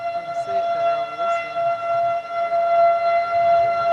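An outdoor civil defense tornado warning siren holds a steady, loud wailing tone with layered harmonics from start to finish, with no voices over it.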